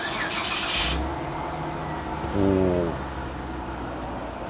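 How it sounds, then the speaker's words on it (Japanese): A Mitsubishi Delica Space Gear V6 engine cranks briefly with a high whir, catches and settles into a steady low idle, with a short rise in revs a moment later, heard nearby in a quiet setting. "じゃあエンジンもかけてみたいと思います。"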